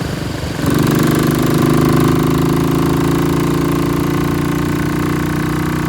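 A Royal Enfield Bullet 500 motorcycle with freshly fitted friction plates starts up and then runs steadily, producing a loud, close, continuous single-cylinder engine thump with no talking.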